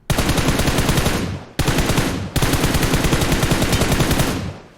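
Rapid automatic gunfire in the battle royale game PUBG Mobile during a solo ranked match, loud and close, in three long sustained bursts separated by brief pauses.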